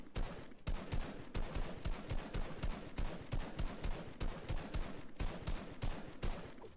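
Rapid gunshots in a video game map, a steady run of sharp evenly spaced cracks repeating like automatic fire, loud and close with no talking.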